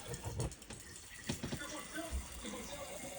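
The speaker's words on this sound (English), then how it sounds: "Just give me some water in this cup." Water runs from a tap into a cup during a fire on a Frigidaire kitchen range, a short splashing flow amid noisy, busy background sound.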